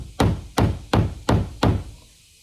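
Five evenly spaced hammer blows drive nails into a DIY wooden shed, each a loud, close, solid knock with a short ringing decay and no talking.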